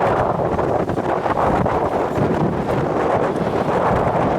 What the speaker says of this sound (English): I am terribly sorry if you can't hear anything at all. It is so windy.